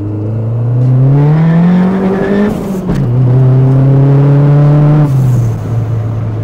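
A modified, turbocharged Toyota Corolla accelerating hard from inside the car, its loud engine note climbing steadily in pitch through two gear changes with a brief dip between them.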